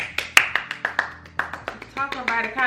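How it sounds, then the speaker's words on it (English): A small group claps in a brief round of applause, scattered separate hand claps building to quicker clapping, heard close up with voices talking over the end. "let's give her a round of applause"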